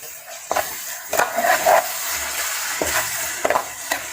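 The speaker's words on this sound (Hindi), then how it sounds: "इसे 4 मिनट तक भूनेंगे।" Chicken frying in a pan with chili sauce and soy sauce, a steady sizzle punctuated by several sharp spoon strokes against the pan as it is stirred.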